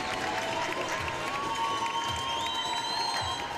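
Arena crowd at a Danville Dashers vs Delaware Thunder hockey game applauding two players after a fight, steady broad clapping and crowd noise with some whistling or tones, continuous throughout.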